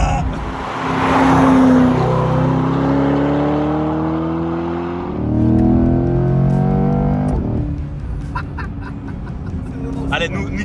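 A Chevrolet Corvette C8 Stingray approaches and sweeps past on a road, its engine note swelling loudly, dipping, then climbing again as it accelerates away, with people talking nearby.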